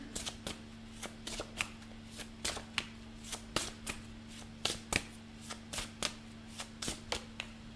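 A tarot card deck being shuffled by hand, with a quick run of crisp, evenly spaced card riffles and snaps, close and fairly quiet, no voices.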